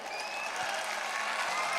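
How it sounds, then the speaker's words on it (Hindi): An audience claps for Lord Ram at a live devotional bhajan show, a brief dense burst of applause at moderate distance that holds steady throughout. "तो चलिए एक बार जोरदार तालियां हमारे राम जी के लिए बजा दीजिए"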